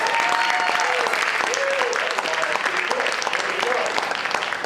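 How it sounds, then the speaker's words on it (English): Warm, steady applause from a small audience after a card trick at a community theater, dense and constant throughout, with a voice talking over it. "Give these folks a nice round of applause."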